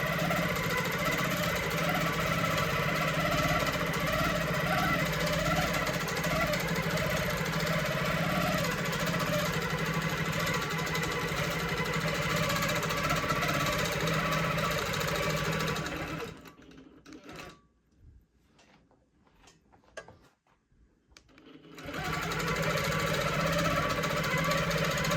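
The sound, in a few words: longarm quilting sewing machine stitching meander pattern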